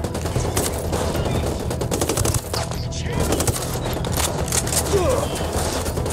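Rapid automatic gunfire from a Ghost Recon Wildlands firefight, dense bursts of shots rattling almost continuously over a low rumble, with a voice talking underneath.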